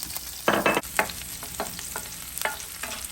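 Mussels and chayote frying in a pan while being stirred, with bursts of scraping and clattering over a low sizzle, close and irregular.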